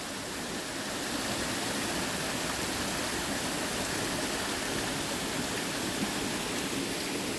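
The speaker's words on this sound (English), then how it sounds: "So here is the River Lid, I believe. And here's the start of the little waterfall." Steady rushing water from the start of a small waterfall on the River Lid, heard outdoors in the rain, a dense, even roar that stays constant throughout with no voices.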